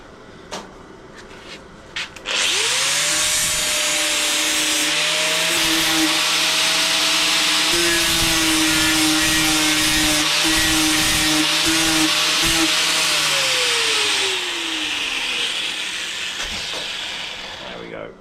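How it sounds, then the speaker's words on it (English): Grinder taking down a weld on a metal tube join, a loud sustained motor whine spinning up, holding steady with grinding rasp, then winding down, near and alone. "So while we're grinding, I'm just concentrated on the weld as best as we can."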